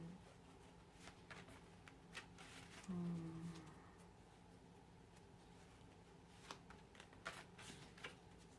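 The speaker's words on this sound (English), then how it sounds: "And I'll shuffle the oracle deck." Soft, papery riffling of an oracle card deck being shuffled in quick bursts, close by, with quiet background noise.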